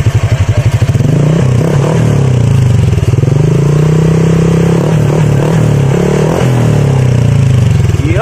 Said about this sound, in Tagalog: So guys, sound check tayo with silencer.